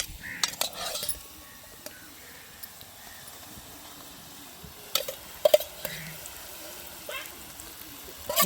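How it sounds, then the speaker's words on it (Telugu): Prawn pieces from a pond go into a pan of fried onions, bringing soft sizzling with intermittent clinks and scraping of a utensil, fairly quiet overall. "ఇప్పుడు ముందుగా రెడీ చేసి పెట్టుకున్న రొయ్య ముక్కల్ని వచ్చి వేసేద్దాం"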